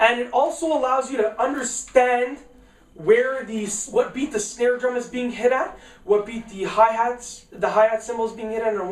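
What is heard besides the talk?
No everyday noise stands out behind the speech.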